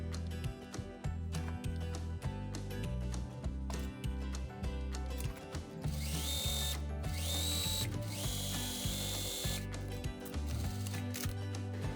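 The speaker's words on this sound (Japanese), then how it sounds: "両方ともこんな感じで半分に折って、でステッチをかけて留めます。" Sewing machine stitching folded fabric on the neckline of a smock dress, running with a rapid mechanical rattle and brief stops and speed changes, close up with no talking.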